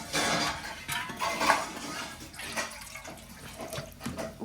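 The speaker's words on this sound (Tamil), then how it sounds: "ஓகேவா டின் தண்ணி ஊற்றுங்க" Water splashes and trickles into a metal pan, with a few clinks of cookware, close by and fairly steady.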